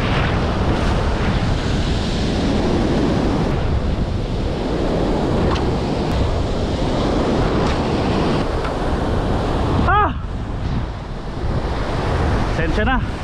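Big storm-driven ocean waves crash and roar without pause at the shore during a fishing outing in a typhoon, loud and close, with heavy wind buffeting the microphone and a brief whine near the end.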